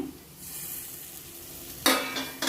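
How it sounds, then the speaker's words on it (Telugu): Fried eggs with garlic and cumin being stirred slowly in a hot pan: a soft sizzle, then two sharper spatula scrapes near the end, close up and with no talking. "ఒక్కసారి కలుపుకుందాం స్లోగా ఎగ్స్ మళ్ళీ ఇలా ఇరిగిపోకుండా స్లోగా కలుపుకోవాలి"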